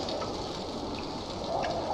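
Heavy storm rain in a winter warfare video game pours down steadily, dense and close, with a constant hiss of drops on surfaces and a faint low rumble underneath.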